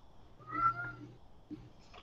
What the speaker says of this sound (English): What was that? Yeah, that's my cat.